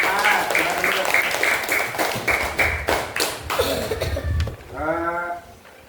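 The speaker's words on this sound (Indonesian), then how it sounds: "Beri tepuk tangan untuk kelompok 4." A classroom audience claps for student group 4, scattered taps and sharp claps mixed with voices and bleat-like vocal sounds, fading to a few voiced calls at the end.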